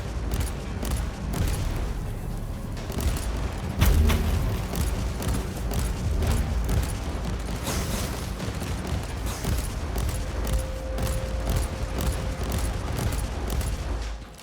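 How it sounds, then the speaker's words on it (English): Gunfire in Warhammer 40,000: Inquisitor – Martyr, a dense ongoing battle din of rapid shots and booms, loud and continuous, with one heavier impact partway through, and no voices. "Let's just keep shooting him to the ground."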